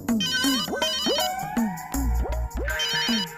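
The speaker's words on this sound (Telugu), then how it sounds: "అరే, మా నాన్న ఫోన్ చేస్తున్నాడు" A mobile phone ringtone for an incoming call in a Telugu comedy-horror film, playing a loud, steady electronic melody of repeated swooping and chiming tones with no voices over it.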